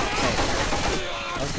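A machine gun in the Left 4 Dead 2 video game fires a loud, dense burst of rapid shots that runs without a break through the short moment.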